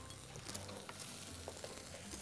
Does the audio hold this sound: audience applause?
no